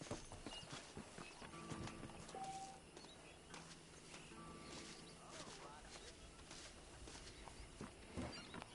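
Horses pulling a wagon in the video game Red Dead Redemption, a steady clip-clop of hooves with wheel rumble and ambient outdoor sounds, mixed with game speech.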